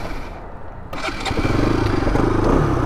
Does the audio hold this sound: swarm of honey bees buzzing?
no